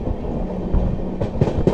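The 16589 Rani Chennamma Express on the Bengaluru–Hubballi line, slowing as it runs: a close, continuous rumble of carriages on the rails, with sharper wheel clicks toward the end.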